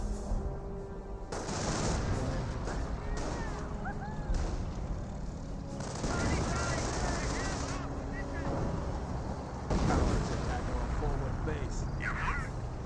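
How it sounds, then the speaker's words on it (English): Bursts of tank cannon and rifle fire from a Panzer IV and German Grenadiers in the Company of Heroes strategy game crackle repeatedly in dense, overlapping volleys, with someone talking over the battle. "Rifle squad is seeing a bit of fire from the Panzer IV as well as from the Grenadiers."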